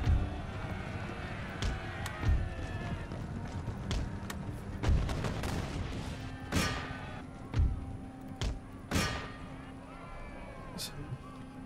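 Sharpshooters firing muskets in an Empire Total War battle, scattered sharp gunshot cracks at irregular intervals over a low battlefield rumble, moderately distant, with spoken commentary running underneath.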